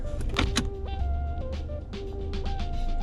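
A Toyota RAV4 XA50's electric parking brake motor whirs in short bursts inside the car, a rising mechanical hum with brief clicks, close and fairly quiet.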